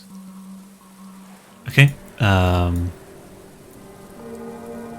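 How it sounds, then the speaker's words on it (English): Steady rain in the video game Book of Hours, a soft continuous patter running throughout, with a person briefly speaking over it and a short sustained tone in the middle. "we got some rain out"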